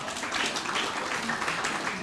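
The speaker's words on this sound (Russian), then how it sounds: "Аплодисменты, друзья!" An audience applauds at a live stage show, a moderate, continuous wash of many hands clapping in a hall, fairly distant and even throughout.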